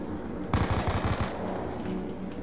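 An MP5 submachine gun fires in Black Ops 2 Zombies: one sharp, rapid burst of close, loud shots lasting under a second, then a quieter game background that continues without speech.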